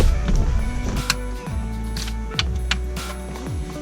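Screws go back into the dash of a Ford F150, with a close mechanical whirring and ratcheting in short repeated bursts and small clicks between them.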